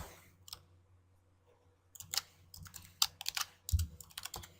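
Keys clatter on a computer keyboard in quick uneven bursts as a file name is typed, close and fairly quiet, after a short pause with a couple of isolated clicks.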